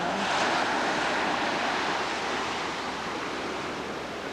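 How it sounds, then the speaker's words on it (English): Hawaiian ocean waves roll in to shore on a calm, windless day, making a broad, steady surf roar that fades slightly at the end, close and continuous with no talking. "There's some waves coming in."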